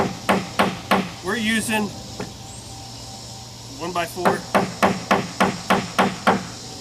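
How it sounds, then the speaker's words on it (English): A stick hammers a knife into a 1x4 wood board, giving a run of sharp, evenly spaced knocks close by, with someone briefly talking between the strikes. "it's a technique where you're going to hammer the knife into the wood"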